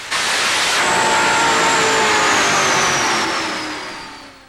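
A drag racing car at a Brazilian drag racing festival accelerates hard, its loud engine roar climbing in pitch, then fading slightly toward the end, with no voices.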